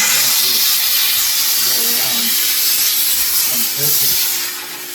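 A Dupray Tosca steam cleaner used for deep-cleaning a bathroom gives a loud, continuous hiss of steam throughout, with faint speech under it.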